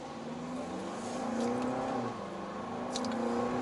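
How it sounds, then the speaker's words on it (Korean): Range Rover Evoque 180d First Edition diesel compact SUV accelerating hard from a standstill, a steady engine drone rising and holding through the run with faint whine on top. "제로백 테스트 하겠습니다"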